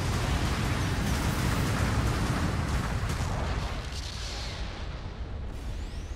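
Supporting artillery barrage in a video game, a dense, continuous rumble of booms and blasts that stays loud throughout, easing slightly toward the end.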